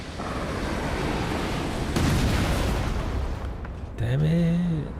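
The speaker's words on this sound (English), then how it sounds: "who gave somebody a cannon out there?" Booming cannon-like blasts fire in a video game, a continuous rumbling barrage with heavy low-end impacts, followed near the end by a brief voice.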